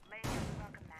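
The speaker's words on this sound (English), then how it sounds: "I hear shots" A short burst of gunfire in the tactical shooter game Rainbow Six Siege hits abruptly after a brief voice and rumbles densely for most of a second, fairly close and loud.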